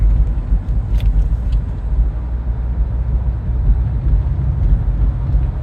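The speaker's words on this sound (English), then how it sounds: "Again, white Jeep just passing me by." A white Jeep rolling past on a road, a loud steady low rumble of engine and tires heard from inside a car, continuous with no voices.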